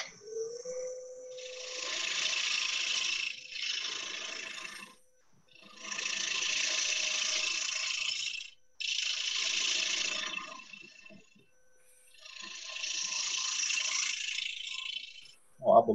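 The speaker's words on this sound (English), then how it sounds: "I'm gonna grab my little half inch scraper and finish this off a little bit, make it a little prettier." A small half-inch hand scraper shaves and smooths a wooden piece in four or five close, hissing strokes of a couple of seconds each, separated by short silent gaps.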